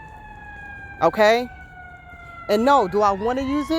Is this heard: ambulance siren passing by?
yes